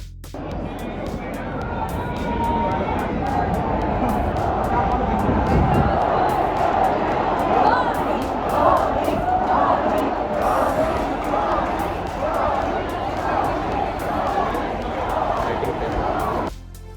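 Large IPL stadium crowd at DY Patil Stadium, Navi Mumbai, hooting and cheering for MS Dhoni's entry, a dense, loud, sustained roar with rhythmic chanting swells throughout.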